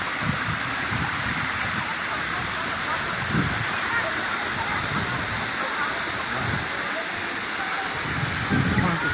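Kawasan Waterfalls in Bohol roar as a steady, broadband rush of falling water, loud and continuous throughout, with faint voices underneath.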